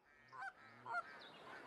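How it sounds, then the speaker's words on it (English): Geese honking from a goose call in the Hunting Simulator 2 video game, set in Roosevelt Forest: two short, faint honks close together, followed by a soft trailing call over quiet ambience. "I just called in some geese"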